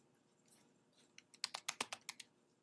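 Quick bursts of keystrokes on a computer keyboard as a title is typed in, a brief close run of about eight crisp clicks after a few faint taps, in a quiet room.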